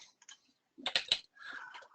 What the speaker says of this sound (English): started typing owner's draw